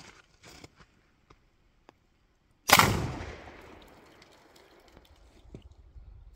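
A single loud gunshot fired into pond ice, a sharp blast followed by a long fading rumble and splash, with faint clicks and handling noises before it.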